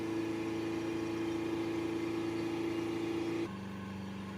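A Mercedes C220 2.1 CDI diesel engine with a component fault is held at about 3,000 rpm, a loud, continuous drone at constant pitch, then drops to a lower, quieter hum near the end.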